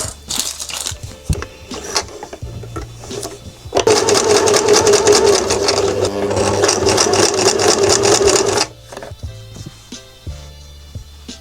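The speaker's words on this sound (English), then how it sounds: "I need to sew the logo on the front panel now" A sewing machine stitches a logo onto the front panel of a small keychain purse: a steady, rapid run of stitching lasts about five seconds mid-clip, framed by quieter handling clicks and short machine bursts.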